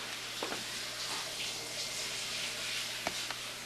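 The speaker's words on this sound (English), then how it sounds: "But you can hear the water." Shower water runs steadily in a nearby bathroom of a house, a soft continuous hiss heard from outside the closed room, with a few faint knocks over it.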